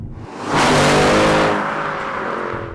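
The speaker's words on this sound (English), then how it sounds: "though inside sometimes you're not hearing that AMG Sport exhaust, outside, trust me, you're hearing it" A Mercedes C63 AMG Edition 507 with a sport exhaust revs hard outdoors, its loud, rising engine roar swelling quickly and then holding a harmonic-rich growl as it eases slightly.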